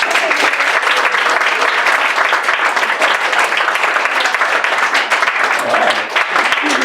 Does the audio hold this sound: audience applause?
yes